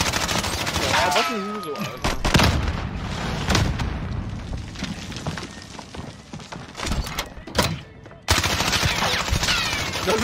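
Gunfire in a Warzone firefight against an enemy team: bursts of rapid shots and booming impacts, loud and close, with pauses between volleys and a player talking over the action.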